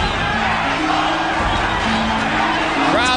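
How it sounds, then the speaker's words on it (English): A boxing arena crowd roars and chants in a sustained, dense wall of voices at a Julio César Chávez versus Meldrick Taylor fight, with sustained sung tones rising out of the mass. "Crowd chanting Mexico,"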